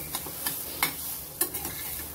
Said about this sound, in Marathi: आणि परत एकदा आपल्याला हलवून घ्यायचे